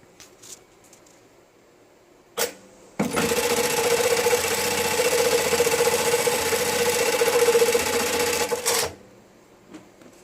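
A JACK JK-T1900BLX electronic tacker sewing machine runs in one continuous stitching burst of about six seconds, a loud steady mechanical whir with rapid needle clatter, starting and stopping abruptly, with quiet room sound and brief clicks around it.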